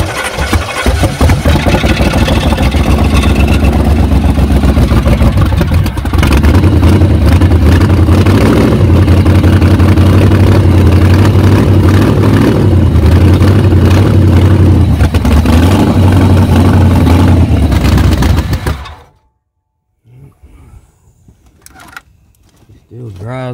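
A 1994 Chevy truck engine roars loudly and steadily for about nineteen seconds, then cuts out abruptly, leaving near silence before faint noise returns; a voice is heard over the running engine.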